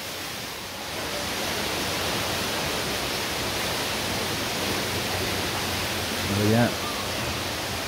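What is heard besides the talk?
water flowing down from above into a stream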